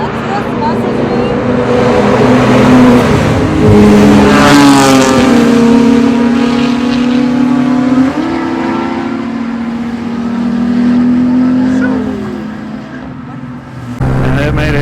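A small-bore motorcycle with a warm clutch rides along, its engine droning and rising in pitch as it revs through gears, loud and close throughout.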